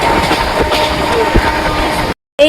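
A moving train clatters steadily on its tracks with a dense, continuous rumble and a few sharper knocks, cutting out briefly near the end.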